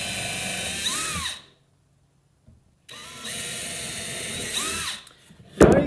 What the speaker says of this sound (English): So on both boards, I'm trying to hold the drill nice and straight.